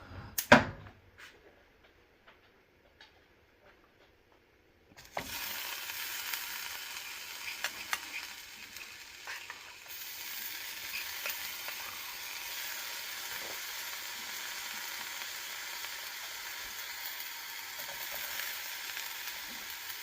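Amla rasam ingredients roasting in a pan on residual heat after the stove is switched off: a sharp click, a few seconds of near silence, then a steady, soft sizzle and hiss that continues close by without talk.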